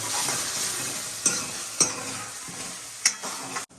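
Green pigeon peas simmering in red chili gravy in a pan, with a steady sizzle and stirring, plus a few sharp clinks of a spoon against the pot, close and without speech.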